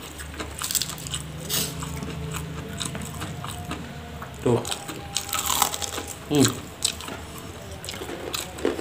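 Crunchy Kentucky-style fried chicken with sambal terasi is bitten and chewed up close, with several sharp crackling crunches and chewing between them, while a person talks briefly.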